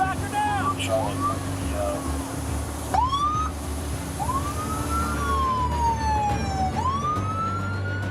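A police boat siren wails and yelps during a high-speed boat chase, its pitch sweeping up and down repeatedly over a steady engine drone and background noise.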